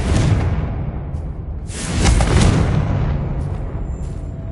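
A Confringo fire-blast spell going off in Hogwarts Legacy, a loud rumbling explosion with a dense noisy roar that swells in the middle and then slowly dies away.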